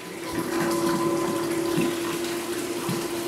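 An 1100 GPH bilge pump run off a battery pushes water in a steady, continuous rush with a constant motor hum beneath, close and moderately loud, without pause across the whole stretch.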